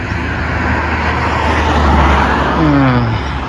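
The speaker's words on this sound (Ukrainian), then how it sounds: "Машини заважають зняти відео нормально" Cars passing on a road beside a cyclist, a loud continuous roar of traffic that swells mid-clip as a vehicle goes by, with a droning engine tone near the end and no speech.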